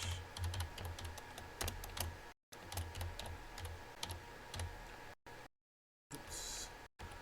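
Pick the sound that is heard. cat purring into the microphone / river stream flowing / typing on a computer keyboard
typing on a computer keyboard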